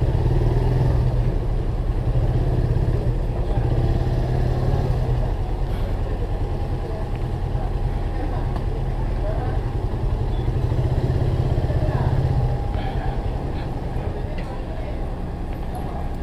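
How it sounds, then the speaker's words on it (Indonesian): A motorcycle on the road just ahead, its steady engine drone and low rumble persisting at close range amid general traffic noise, with no talk. "ini motornya baru nih depan kita nih"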